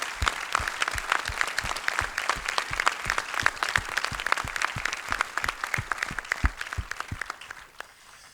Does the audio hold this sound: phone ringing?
no